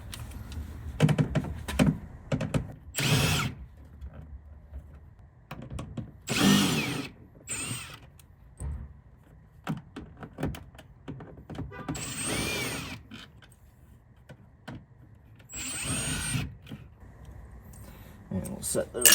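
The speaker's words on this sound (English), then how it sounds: "We're going to use a 6mm socket and our impact driver for this." An impact driver with a 6mm socket backs bolts out of a 2007-2014 Ford F-150 door, giving several short loud bursts of rattling hammering separated by pauses, with a person talking between them.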